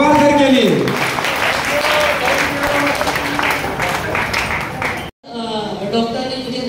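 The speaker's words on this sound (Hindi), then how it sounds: "जोरदार ताली होनी चाहिए पवार सर के लिए।" Loud applause for a guest at a Women's Day celebration fills the room, with a voice talking over it, a brief cut near the end, and then the clapping and voices continue.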